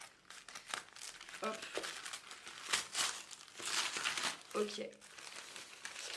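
Packaging of a card deck is unwrapped, giving close crinkling and tearing plastic and paper with rustling handling throughout, while someone speaks briefly over it.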